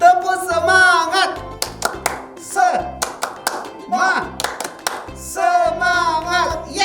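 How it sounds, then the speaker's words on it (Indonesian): Children's rhythmic spirit clap from an online Sunday school class sounds as sharp clap bursts in a patterned rhythm, alternating with lively, sung-style voices close up. "Iya, adik-adik di rumah siap-siap ya tepuk semangatnya. Tepuk semangat."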